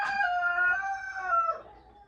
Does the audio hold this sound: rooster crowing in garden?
yes